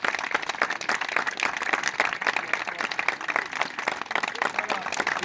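Steady applause from an audience at the close of an improvised theatre show, dense clapping filling the whole stretch with some voices mixed in underneath.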